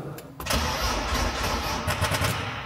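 A BMW that had stood unused for ten years cranks briefly and then catches, settling into a rough, close idle that runs steadily to the end.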